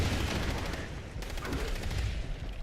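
Turrets in Fallout 76 fire rapid continuous volleys, a dense, loud rattle of gunfire that runs unbroken throughout.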